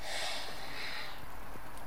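A voice imitates a toy Giganotosaurus sniffing, with a couple of quick, breathy, close snorts.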